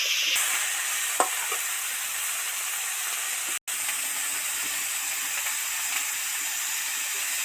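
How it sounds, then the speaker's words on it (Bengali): Cauliflower and onions fry in a pan, a steady, even sizzle throughout, with a couple of faint clicks and scrapes. "ফুলকপি দু চার মিনিট পেঁয়াজের সাথে ভালো করে ভাজতে থাকবো"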